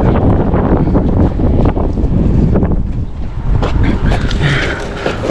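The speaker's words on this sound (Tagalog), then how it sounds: "talagang malakas ang hangin" Strong wind buffets a fishing boat at sea, roaring loudly into the microphone in heavy, rumbling gusts that continue without pause, with water and boat noise mixed underneath.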